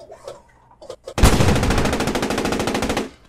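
A long, loud burst of rapid machine-gun fire from a tank crew in the World War II game Post Scriptum, preceded by a few faint clicks and muffled sounds.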